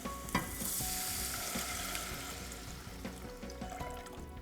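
Spices and turmeric sautéing in a pan, with water poured in: a steady close sizzle and frying crackle with stirring clatter and a sharp clink near the start, no voices.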